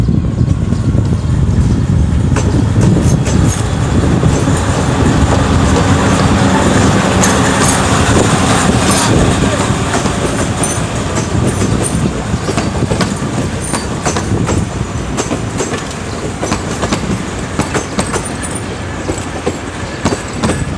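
Hunslet DSA 551 locomotive crossing Cornwall Street, a loud continuous rumble of engine and rolling wheels with rhythmic clickety-clack, close by and steady throughout, slowly easing in level.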